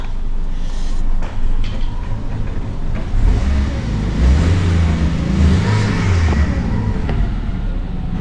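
A car engine that was submerged in floodwater runs steadily after being started, a continuous close, loud idle rumble with slight rises and dips and a few faint knocks.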